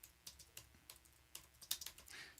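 Someone types on a computer keyboard in a quiet room: faint, irregular keystroke clicks at an uneven pace, with a short quicker burst near the end.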